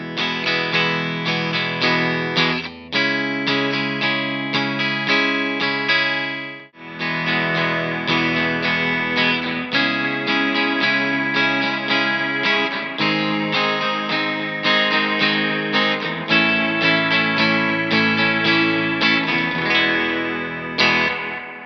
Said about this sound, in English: the spring reverb coming from the Hydra